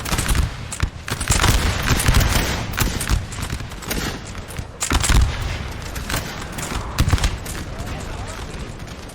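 Musket volleys from a Napoleon Total War battle, bursts of crackling gunfire in ragged rolling waves with heavy thumps, dense and loud throughout, while a voice talks over the din.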